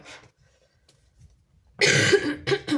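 Near silence, then a loud close cough followed by a second shorter cough burst.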